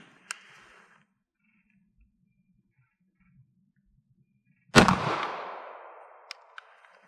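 A single 9mm Luger pistol shot firing a 147 grain round during a penetration test, one sharp loud crack with a long ringing decay, followed by faint clinks, otherwise quiet.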